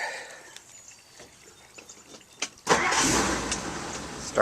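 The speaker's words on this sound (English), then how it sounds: "And let's see if the car will start" A 1962 Ford Galaxie 500 engine starts: a few quiet clicks and ticks, then the starter catches and the motor fires abruptly into a loud, steady idle roar, heard close.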